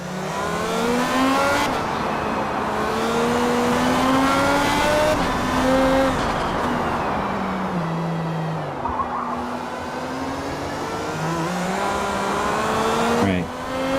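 A race car in the game Space Engineers drives with a steady, loud engine drone, its pitch rising and falling through gear changes and revs, with a brief squeal near the end.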